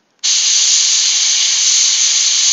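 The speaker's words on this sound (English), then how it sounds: "I'm gonna spray these panels blue" Continuous spray-paint hiss as blue paint goes onto model panels, starting abruptly after a brief silence and holding steady and loud with no pauses.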